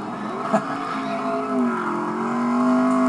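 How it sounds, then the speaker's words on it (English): A NASCAR race car performs a victory burnout after winning the 2012 Geico 400, its engine holding a loud, steady droning rev with slight pitch swells and no talk over it. "it's doing a victory burnout right now"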